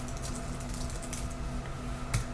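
Faint computer keyboard typing while content is entered into a website contact form, a few soft, sparse key clicks over low steady background hum.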